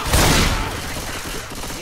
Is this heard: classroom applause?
no